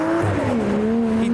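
A 500hp full TRD Toyota Chaser pulls away hard from a car meet, its engine note rising steadily in pitch as it accelerates, loud and close, with a brief squeal of tyres near the start.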